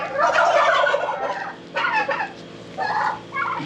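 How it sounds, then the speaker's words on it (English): Loud, close turkey gobbling in repeated bursts, a long rattling call followed by shorter gobbles with brief pauses between. "I love my turkeys."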